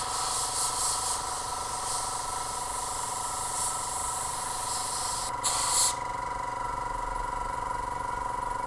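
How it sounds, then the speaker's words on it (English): An airbrush compressor runs steadily with a continuous hiss of paint spraying a camouflage scheme onto a Tamiya 1/48 German anti-tank gun model, close and even, with a brief louder burst near the end. "I should probably turn my compressor on."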